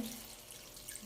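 Water poured into a cooking pot holding pork and bangus milkfish for paksiw, a soft brief splashing trickle, faint and alone.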